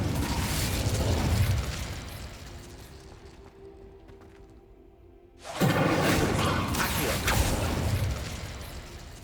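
An Incendio fire spell cast in Hogwarts Legacy on PS5, a sudden loud whooshing burst of flame that breaks in after a quieter stretch and keeps roaring and crackling, with busy game effects both before and after.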